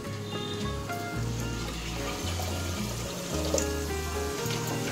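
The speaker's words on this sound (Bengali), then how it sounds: "ঠিক এতটুকু জল দিলাম" Water pours steadily onto moong dal in a pressure cooker, a continuous trickling fill over a low background hum.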